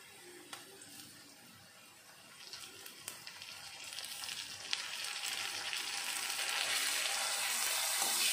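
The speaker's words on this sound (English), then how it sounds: "Fry them until the raw smell of ginger garlic paste is gone." Ginger garlic paste fries in a pan with a steady sizzle for keema gravy, growing gradually louder and brighter, with a few small pops and utensil clicks and no talking.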